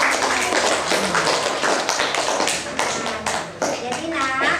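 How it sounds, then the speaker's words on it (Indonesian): A class of students claps in a classroom, a dense, close burst of many quick overlapping hand claps and taps lasting several seconds, with a voice briefly audible near the end. "Tepuk tangan untuk"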